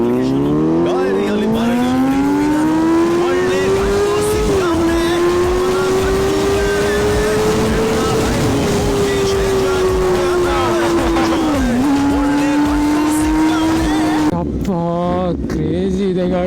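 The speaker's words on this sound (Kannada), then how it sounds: "ಲೈಫಲ್ಲೇ ಫಸ್ಟ್ ಟೈಮು CBR ಓಡಿಸ್ತಿರೋದು." A Honda CBR motorcycle ridden at speed, its engine a loud, steady high-pitched drone that rises and dips briefly at gear changes before settling back, with wind rush throughout.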